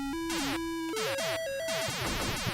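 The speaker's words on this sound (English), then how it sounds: "Down there, the good old extra life noise." Extra life jingle in the Centipede arcade game, a rapid run of stepped bright electronic tones climbing in pitch, loud and alone, trailing off into game bleeps.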